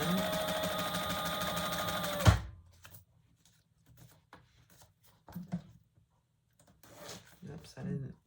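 A sewing machine bastes leather for a retro-style sling bag, running in a fast, steady whirring burst for about two seconds before stopping with a thunk, followed by quiet handling clicks and rustles.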